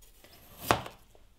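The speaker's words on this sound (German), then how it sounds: "Dann schneide ich mein Parfait." A knife slices once through a limoncello-ricotta parfait and strikes the cutting board with a single crisp thud, close up, in an otherwise quiet kitchen.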